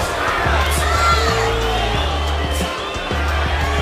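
Mexican fans roaring and cheering in a boxing arena during a pro bout, a loud sustained crowd din with shouts and whoops rising and falling, heavy low rumble underneath.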